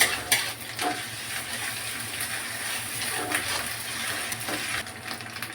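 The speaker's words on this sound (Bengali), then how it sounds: "আদাটা দিয়ে হালকা নেড়ে নেবো" Garlic and ginger stir-fry in hot oil, a continuous close sizzle with intermittent utensil taps and scrapes against the pan.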